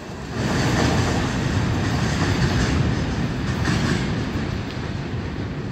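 Union Pacific train rolling through the Roseville rail yard, a steady loud rumble with faint wheel clatter that holds for several seconds alone, with no voices.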